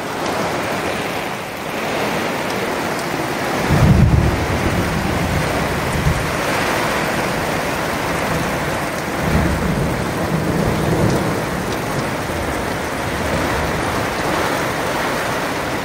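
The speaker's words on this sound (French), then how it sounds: "c'est vraiment le déluge." Heavy downpour of rain with thunder during a thunderstorm, a steady loud wash of rain broken by deep rumbling thunder claps around four and nine seconds, with no voices.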